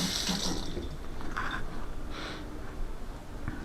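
Tap water runs while a knife is rinsed in a sink, a close, continuous splashing hiss with small shifts in tone as the blade moves through the stream.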